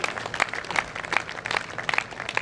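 Audience applause at a poetry gathering (kavi sammelan), a steady patter of many clapping hands at moderate distance, continuous and fairly even for the whole stretch.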